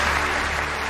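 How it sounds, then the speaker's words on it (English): Studio audience applause at a televised sports awards show, a dense, steady roar of many hands clapping, loud and sustained for the whole short stretch. "To rapturous applause from the studio audience"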